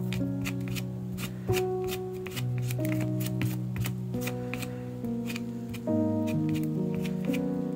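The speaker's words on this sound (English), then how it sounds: "So on top of this collage, I do want to add a bit more gesso," Gesso is scraped on in quick, scratchy strokes across a mixed media collage index card, a run of close, dry rasps and taps heard under steady background music.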